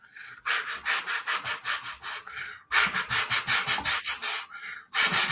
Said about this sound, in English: For people listening on audio, this is sandpaper.